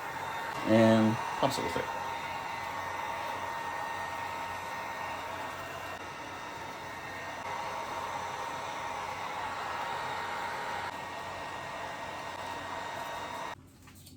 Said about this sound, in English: Now I'm gonna hit it with a heat gun